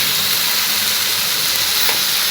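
Onion and tomato sautéing together in a pan, a steady, loud sizzle and hiss that continues evenly without pause, with no voices over it.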